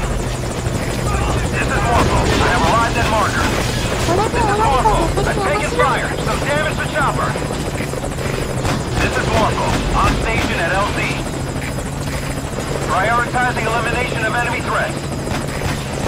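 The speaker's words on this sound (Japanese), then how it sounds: "あ、ヘリ死ぬかな。" Helicopter in Metal Gear Solid V: Ground Zeroes, a steady, loud rotor drone with pulsing chop that runs throughout, close and continuous, with someone talking over it.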